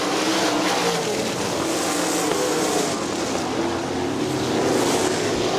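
Sprint cars at a 2002 Great Lakes Outlaw Super Sprints race on the Butler dirt track give a steady, loud engine roar that holds without break, with a broad, even drone and no talk.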